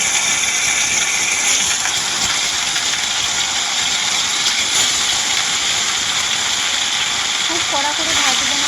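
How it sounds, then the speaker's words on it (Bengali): Rohu fish fry in mustard oil in a karai with a loud, steady, close hiss that barely varies, and a brief voice is heard near the end. "মাছগুলো এবার ভেজে নেব।"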